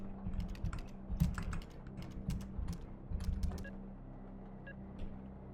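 Keys clatter in quick, irregular bursts on a computer keyboard in the video game Stories Untold, close and fairly quiet, trailing off into a few isolated clicks near the end.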